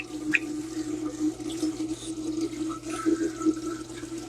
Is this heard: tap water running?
yes